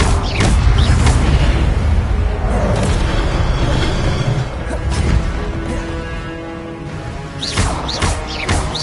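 Heavy booming fire-spell blasts from Incendio in Hogwarts Legacy hit again and again, close and loud, with crackling bursts over a constant rumble of combat.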